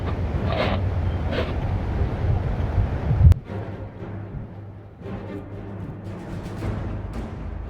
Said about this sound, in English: Must just be the wind.